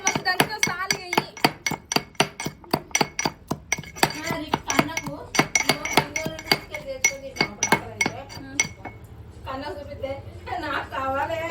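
Someone pounds food by hand in a mortar in a home kitchen: a quick run of about twenty sharp, rhythmic strikes, close and fairly loud, then a pause before a voice speaks near the end.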